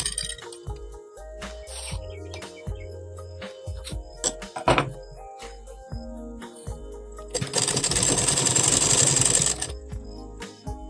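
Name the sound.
sewing machine stitching lace onto a round neck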